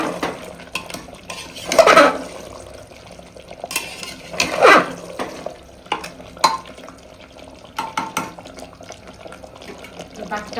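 Mutton being sautéed and stirred in a pot in a home kitchen, with scraping and clinking of a spoon against metal in several bursts over a steady low cooking background.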